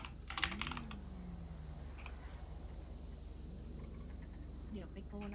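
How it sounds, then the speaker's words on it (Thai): Computer keyboard typing during a game, a quick cluster of clicks near the start and scattered keystrokes later, faint and close, over a steady hum with voices and game sounds. "ผมพิมพ์ชื่อให้ก็ได้"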